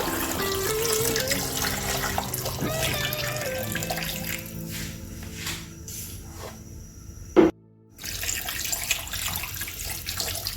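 Steady running water pours and splashes continuously, filling a cooking pot for chicken and yam pepper soup, before a short thump and a moment of near silence.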